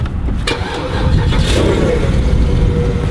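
Porsche 4.5-litre naturally aspirated V8 with standard exhaust starting and revving up close, a short burst followed by a loud sustained engine roar.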